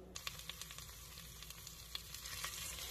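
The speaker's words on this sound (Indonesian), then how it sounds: "Di tuh digongso di minyak yang udah kita panas tadi" Indofood gulai spice paste frying in hot oil, a steady close sizzle with small crackling pops throughout, no voices.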